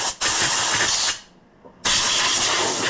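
Loud hissing bursts of oil spraying from an Oliver 1650 tractor engine close by, one long blast, a short pause, then another strong continuous spray.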